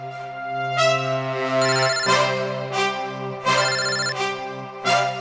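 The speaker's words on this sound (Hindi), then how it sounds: "यहाँ पे किसका फोन बज रहा है?" A loud, repeating electronic ringtone plays a looping melody with regular accented pulses, close and continuous with no voices.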